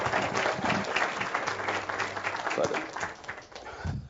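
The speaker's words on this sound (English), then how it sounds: "Let's give him another round of applause." A conference audience applauds after a speech by a government minister, with dense clapping throughout that thins toward the end.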